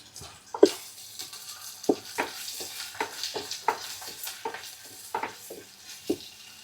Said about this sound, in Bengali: এবার একটু নেড়ে নিই।